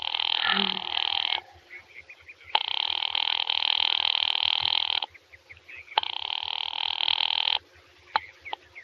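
A telephone rings over the line in a vintage radio drama, with three long buzzing rings separated by pauses, plus faint clicks and a brief murmur early on.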